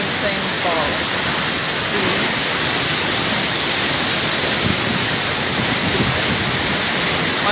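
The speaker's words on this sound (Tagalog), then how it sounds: "This is so amazing falls." Waterfall at Baler, a steady broadband roar of falling water that fills the whole clip at close range, with faint voices and chirps in the background.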